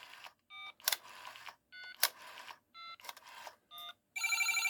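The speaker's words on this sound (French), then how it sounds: "Donc je décroche. Je vais composer mon numéro." A number is dialed on a 1980s French telecom technician's test telephone: a series of short, distinct tone bursts separated by sharp clicks, ending in a longer steady warbling tone, with no voice over it.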